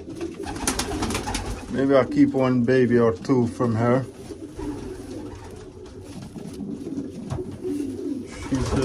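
Young racing pigeons, including a sprint hen, coo in a London loft, soft repeated throaty calls close by while someone talks over them.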